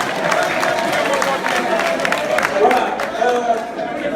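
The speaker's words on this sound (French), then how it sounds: "Mais applaudissez pour Fass-Bao." A crowd at a national assembly event in Léopold Sédar Senghor Stadium applauds and cheers steadily, with clapping filling the space throughout and voices mixed into the noise.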